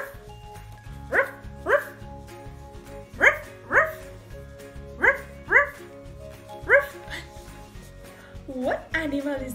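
A person's voice imitates a dog barking in an animal-guessing game: a series of paired woof sounds in a steady rhythm, close and fairly loud, with a final whimpering yip.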